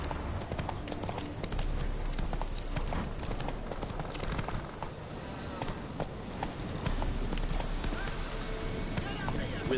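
Hooves clip-clop rhythmically as a horse gallops in The Witcher video game, with steady dense thudding throughout and speech over it.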